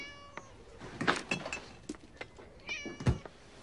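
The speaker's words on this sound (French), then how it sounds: "Minou, Minou, Minou, Minou. Minou, Minou, Minou. Bonjour, toi. Tu as faim?" A hungry cat meows several times in short, clear calls spread across the clip, close by, with no talking over it.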